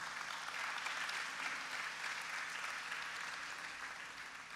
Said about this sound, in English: please give a big round of applause to our teachers for me